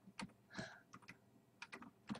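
Quiet, sparse clicks of a computer keyboard being typed on during a Minecraft Hunger Games session, a few separate keystrokes in short bursts.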